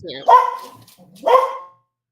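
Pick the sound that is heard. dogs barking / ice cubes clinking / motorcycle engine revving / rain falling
dogs barking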